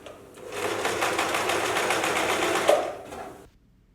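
A sewing machine runs a short, steady burst of stitching along a simple straight line through fabric, its rapid needle rhythm clear and close, stopping cleanly after about three seconds.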